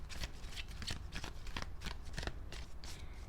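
A deck of cards is shuffled up close, a run of quick riffling flutters and soft slaps repeating in bursts without speech.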